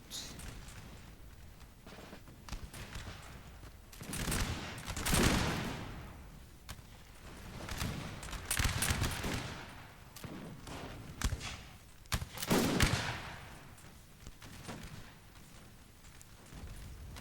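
Rolling musket volleys crackle in a Napoleonic Total War 3 battle between Prussian, Austrian, British and French armies, swelling into several dense bursts of overlapping shots at mid distance amid a continuous battlefield din.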